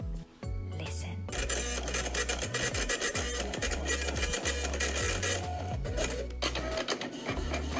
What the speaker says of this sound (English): It's a printing machine.